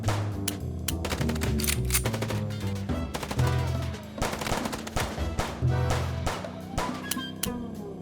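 Rapid gunfire from a car chase in the noir detective game Chicken Police: Paint it Red, with fast staccato shots rattling continuously over driving music and engine noise, loud and busy throughout.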